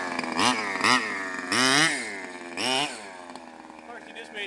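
Small gas engine of a radio-controlled model, tuned with the high-speed needle opened to a rich mixture, sputters and revs in four uneven surging bursts between a rough lower idle, close and loud.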